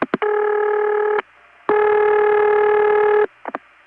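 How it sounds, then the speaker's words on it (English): A 1970s telephone ring sent as two bursts close together to signal an intercept operator: two long steady buzzy tones separated by a short gap, framed by clicks at the start and end, loud and clear over a quiet line. "That's two ring bursts very close together."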